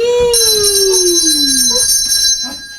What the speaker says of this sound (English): The bell is gonging, says they.